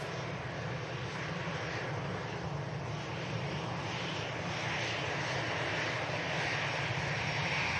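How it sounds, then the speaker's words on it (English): KLM airliner on approach to touch down at Manchester Airport, a continuous dense jet engine roar that holds steady and grows a little louder, without voices. "Got a KLM about to touch down."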